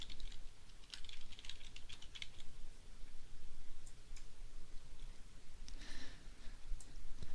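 Someone types a login on a computer keyboard, an irregular patter of soft key clicks in short bursts, close and fairly quiet, with no talking.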